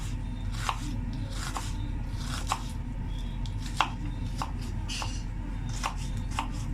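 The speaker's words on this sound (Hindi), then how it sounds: "हम जो है प्याज कट कर रहे हैं।" A knife chops onions on a board with sharp, close taps at an uneven, unhurried pace, about a dozen strikes over a low steady background hum.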